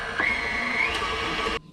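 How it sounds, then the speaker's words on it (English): An electric stand mixer beats egg yolks in a bowl, a steady close whirring motor hum with a tonal whine that cuts off abruptly near the end. "Now that all of the egg yolks are in our mixer, we're gonna mix it until it's combined."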